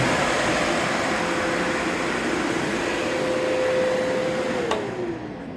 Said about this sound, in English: this is blowing air out, and this is sucking air in